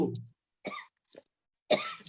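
Person coughing in short, separated bursts, three or four dry coughs close to the microphone with silence between them.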